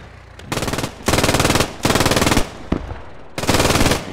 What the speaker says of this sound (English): British are returning a little bit of fire,